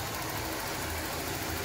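A Toyota Corolla engine idles with a steady, even low hum and faint mechanical whir, close and constant, with no voices.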